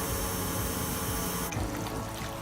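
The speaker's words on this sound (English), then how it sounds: "Now I'm gonna add my water." Water pours in a steady splashing stream into a cooking pot while pilau rice for biryani is being made, then the flow cuts off partway through, leaving a softer trickle.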